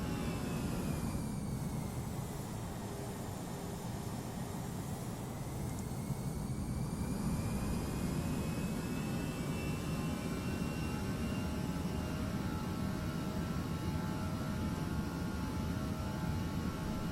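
Airbus A321 jet engines roar at climb thrust in the Prepar3D flight simulator, a steady, even drone with a faint rising whine, continuous and unbroken, with no voices.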